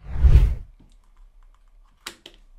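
A low thump followed by a couple of sharp, quick clicks as heat shrink tubing for a camera cable is snipped roughly in half, close and brief with quiet gaps between.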